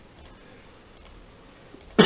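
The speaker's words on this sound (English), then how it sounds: "I'm sorry about this irritating little cough that started" A single short, loud cough bursts out at the very end after near-silence, from someone narrating a Cinema 4D software tutorial.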